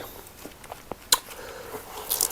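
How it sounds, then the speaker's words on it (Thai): Someone bites and chews raw beef, a series of quiet, close, moist squishing bites with one sharper crunchy click partway through and a couple of brief crackly bursts near the end, with no talking. "กัดกัดพี่น้องเอ้ย"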